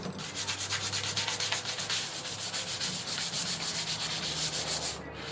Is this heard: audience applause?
no